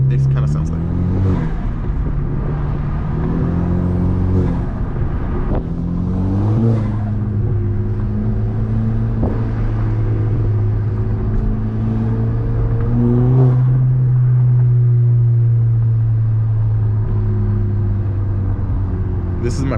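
An Audi A4 with a turbo and an aftermarket diverter/blow-off valve revs up and down repeatedly, its engine rising and falling in pitch, close and loud throughout, with turbo whooshes between revs.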